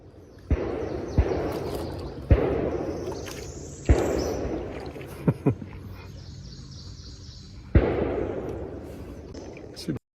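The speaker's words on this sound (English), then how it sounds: "It's gunshots." Several loud gunshots ring out outdoors at irregular intervals, each sharp crack trailing off in a long echo, with a couple of quieter pops between them.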